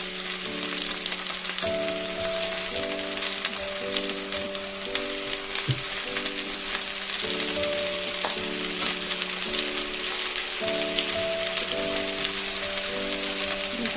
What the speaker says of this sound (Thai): ใส่หยดน้ำลงไปนะคะ